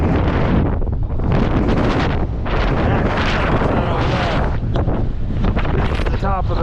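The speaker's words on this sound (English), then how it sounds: "Wind is brutal. It's the summit." Strong, brutal wind at the summit of Mt. Washington roaring over the microphone in heavy continuous buffeting gusts, loud and close, with a voice partly audible beneath it.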